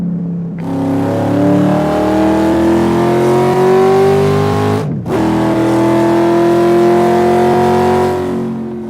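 A small car's engine revs and holds high in a racing video game, played on a wheel with an H-pattern shifter; steady loud drone rising in pitch, a brief gap for a gear shift, then climbing again, no talking.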